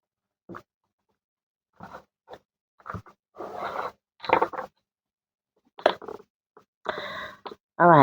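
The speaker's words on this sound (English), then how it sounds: "It's saying shuffle the cards." Short bursts of tarot cards being shuffled and riffled, separated by silent pauses, close and fairly quiet.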